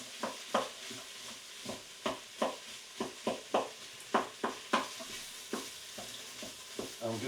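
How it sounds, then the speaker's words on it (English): Cabbage frying in a pan for a sweet potato and coconut curry, a steady sizzle broken by repeated scraping stirs of a utensil against the pan, close and fairly rhythmic throughout. "I'm just going to cook that cabbage out for about 4 or 5 minutes"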